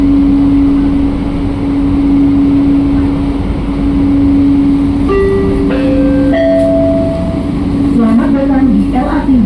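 An LRT Jabodebek light rail car on the Bekasi Line hums and rumbles steadily from inside, with a rising electric whine and a series of chime-like tones near the end.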